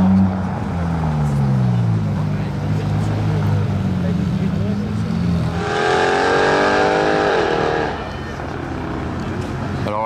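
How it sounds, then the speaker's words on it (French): Two Mercedes C63 AMG cars accelerate hard, their loud, close engines rising in pitch together near the end over a busy outdoor background. "Il y a les deux C63 qui viennent d'accélérer comme des oufs."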